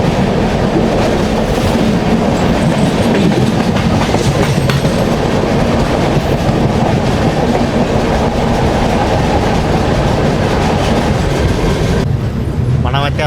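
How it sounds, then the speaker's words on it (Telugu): The new Humsafar weekly express train runs on its tracks from Srikakulam Road to Tirupati, giving a loud, continuous rumble with rhythmic clickety-clack of the wheels, heard from inside a crowded coach. "చల్లపల్లి సంతరగచ్చి స్పెషల్ ట్రైన్ ఇది."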